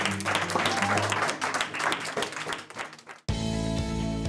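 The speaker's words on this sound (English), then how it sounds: "So give yourselves a round of applause for that." Trail project participants applauding themselves, a dense burst of clapping with crowd noise that thins out and ends abruptly, then cut off by a loud tonal music passage.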